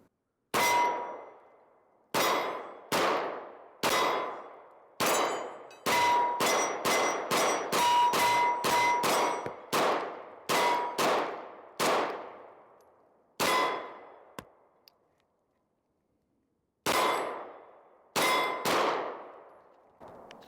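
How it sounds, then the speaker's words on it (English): Bul Armory Axe Cleaver pistol fired outdoors in cold, windy weather at steel targets: a long series of sharp shots, each followed by a bright ringing clang from the steel, some fired in quick strings and others spaced apart, with a silent gap near the end. "We're just going to shoot here."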